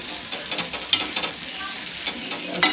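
Bhaji cooking in a pan is stirred and turned over, a steady sizzle and fry hiss under repeated soft scraping strokes of the spoon, close and continuous, with no voices.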